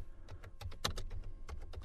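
Typing on a computer keyboard, a quick irregular run of light key clicks with a couple of sharper taps, close and quiet, alone without talk.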